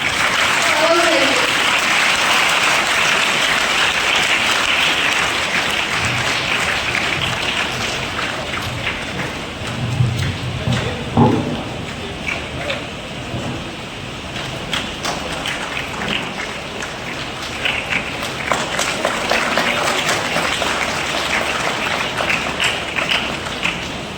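At a school admission and girls' education festival, the audience gives long, dense applause that stays loud for the whole stretch, with some voices and scattered louder claps mixed in.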